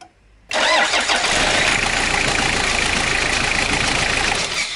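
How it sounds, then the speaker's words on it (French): A car engine cranks and catches, jump-started with a JFEGWO booster, then runs at a loud, steady idle close by. "Et la voiture démarre sans aucun souci."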